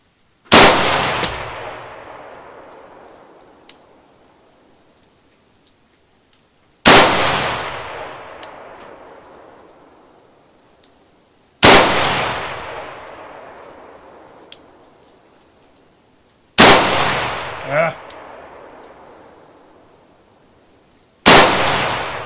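Five loud, sharp rifle shots fired one at a time at a 100-yard target, each a sudden blast followed by a long decaying echo, spaced about four to five seconds apart with no talking.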